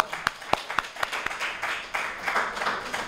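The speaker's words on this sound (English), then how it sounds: "another applause, please" An audience at a poetry reading applauds a performer, starting with a few distinct, separated claps that quickly swell into a fuller, denser round of clapping at moderate distance.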